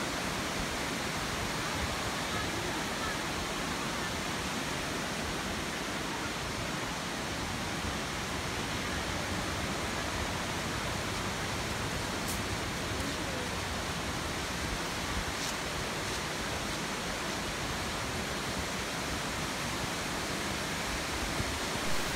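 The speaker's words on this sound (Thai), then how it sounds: "ยิ่งเราเดินเข้ามาใกล้น้ำตกมากเท่าไหร่ครับเราก็จะได้ยินเสียงดังกึกก้องจากน้ำที่ตกลงมากระทบแผ่นหินด้านล่างครับ" Khlong Lan waterfall in Kamphaeng Phet, Thailand, with water crashing onto rocks below: a loud, constant, dense roar that stays level with no pauses and no voices.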